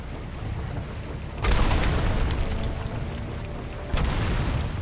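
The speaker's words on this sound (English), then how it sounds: "Time to switch to the other side, cannon, and sink them before it's too late." Ship cannons fire at pirates during a naval fight in World of Warcraft, two heavy booming blasts erupting over a constant roaring, rumbling battle ambience.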